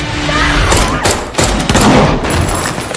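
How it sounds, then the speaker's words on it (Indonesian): Pistol shots fired at a zombie in a film: several sharp, loud cracks and thuds burst in quick succession over a rumbling background, each one abrupt and close. "langsung mengambil pistol milik Rahman dan langsung menembak zombie tersebut"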